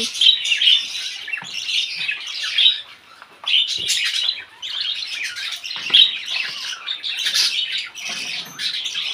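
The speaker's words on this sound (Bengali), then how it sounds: "পাখিদের খাবার দেবার সাথে সাথে পাখি খেতে আসছে" Pet birds chirp and squawk in a lively, continuous flock chorus during a morning feeding, with bright overlapping tweets close by and no talking.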